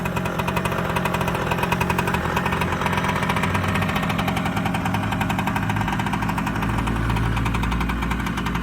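A Kawasaki KE100 motorcycle runs steadily after its first start since 2020, a loud, close two-stroke engine with a continuous rapid buzzing throb that deepens slightly toward the end.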